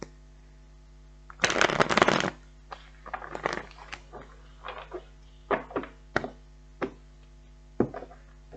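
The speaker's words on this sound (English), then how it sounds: "One more shuffle." Playing cards being shuffled, a loud riffle burst followed by several shorter, softer riffles and taps, close by with a low steady hum beneath.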